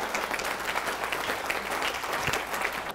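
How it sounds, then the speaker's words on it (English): Steady audience applause at a talk, a dense wash of many hands clapping continuously for about three seconds without voices over it. "can we give her another round of applause?"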